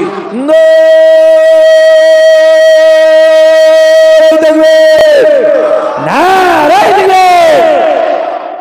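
A crowd at a religious gathering answers with chanted takbir: a long, loud, amplified sustained cry, followed by a swelling mass of overlapping voices shouting back together.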